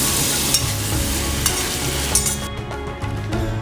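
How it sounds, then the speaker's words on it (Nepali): Chicken pieces fried and stirred in a kadai with oil, giving a steady close sizzle broken by scraping strokes of a spoon against the metal pan. "खैरो भएपछि मासु पनि कराईमा खनाइदिने र बिस्तारै चलाउँदै छोप्दै फेरि चलाउँदै गर्नुपर्छ।"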